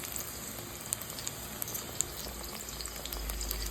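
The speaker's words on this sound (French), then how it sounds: "Frire le joyon ensemble avec le brinzelle." Eggplant and onion frying together in a pan, a faint, even crackling sizzle with a few sharp pops, heard close but quiet, with a low rumble rising toward the end.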